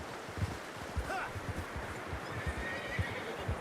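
A horse in Red Dead Redemption 2 whinnies briefly over steady clip-clopping hooves and a constant background wash, with no voices.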